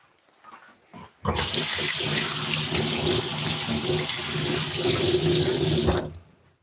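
A kitchen tap gushes into a sink for about five seconds as something is quickly washed off while cooking boneless brown stew chicken, the steady close-up splash starting abruptly after a few soft clunks and cutting off cleanly.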